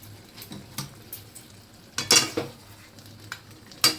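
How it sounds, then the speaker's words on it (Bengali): Curry masala frying in oil while being stirred, with scattered scrapes and soft sizzling bursts under a low steady hum, and a few sharper clinks and louder scraping strokes standing out near the middle and end. "এই অবস্থায় আর একটু নাড়িয়ে আমি এটাকে প্রেসারে দেব"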